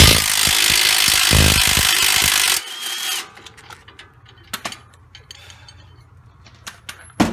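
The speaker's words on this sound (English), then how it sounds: "hit it with the impact" An impact wrench hammers loudly and continuously for a few seconds on the front strut bolts of a 2010 Camaro, then stops, leaving scattered metallic clicks and clanks of tools being handled nearby.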